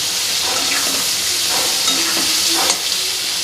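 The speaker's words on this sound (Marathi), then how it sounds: "फक्त मोहरी आपली आहे ना छान फुटू द्यायची" Mustard seeds splutter in hot oil for a lemon and chili pickle, a dense, close sizzling hiss dotted with quick crackles and pops throughout, with no talking.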